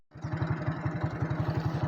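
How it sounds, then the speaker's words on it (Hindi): Tractor at work ploughing a field for wheat, its engine chugging in a fast, steady rhythm close by, alone for a couple of seconds. "ट्रैक्टर काम करते हुए रास्ते में।"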